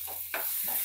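Onions with salt stirred in a pan: a short burst of spoon scraping and brief scuffs over a low sizzle, close and with no voices.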